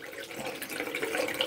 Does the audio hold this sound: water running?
yes